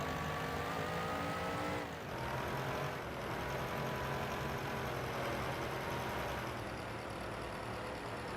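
Engine drone of a 1936 Delage 15S8 racing car on Donington Park in a racing game, a sustained fairly quiet hum with shifting pitch as it accelerates and eases, gear changes marked by brief dips, no voices.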